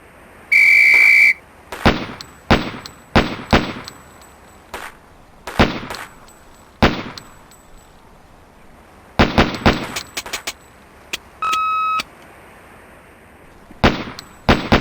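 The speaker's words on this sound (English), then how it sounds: "shoot the first target once, second target once, third target twice, second target once, and first target once." In Police Quest: SWAT, a shrill whistle starts a target drill and is followed by a rapid series of sharp pistol shots in uneven bursts. A second whistle sounds midway, then more shots follow, loud and close with no talk.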